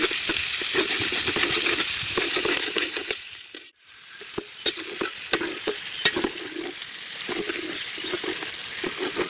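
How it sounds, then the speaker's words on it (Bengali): Ginger and garlic paste frying in a pan for a village-style gobi manchurian, a steady close sizzle broken by scraping spatula strokes and clicks, briefly dipping quiet midway before the frying resumes. "আর এর মধ্যে আদা পেস্ট আর রসুন পেস্ট দিয়ে নাড়াবো।"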